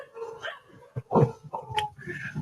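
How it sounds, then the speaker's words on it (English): A few dogs bark and yip in short, uneven bursts at a home, fairly close and loud, with some whimpering between the barks. "The dogs are going off."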